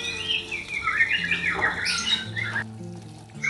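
A white-rumped shama in molt squawks in harsh, rising bursts at close range, with splashing water and some low background noise around it.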